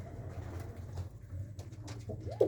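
Pigeons in a loft with nest boxes make low, throaty coos close by, a steady murmuring drone with a louder coo near the end.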